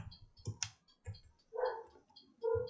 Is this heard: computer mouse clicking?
yes